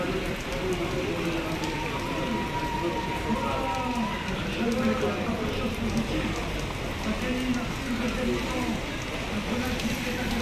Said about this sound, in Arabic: أمطار الخير لا زالت تتساقط على مدينة الدار البيضاء